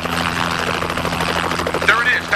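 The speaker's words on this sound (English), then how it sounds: "That's a chopper." A helicopter flies overhead at a rescue scene in an action film, its steady rotor drone loud and continuous throughout, with a brief higher whine near the end.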